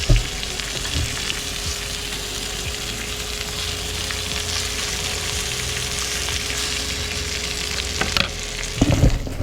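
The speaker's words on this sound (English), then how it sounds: "you wanna make sure you mash that bacon down. Let it get nice and cooked." Bacon-wrapped grouper cheeks fry in a pan with a loud, dense, continuous sizzle close by, a few scraping knocks as the bacon is pressed down, strongest near the end, with no talking.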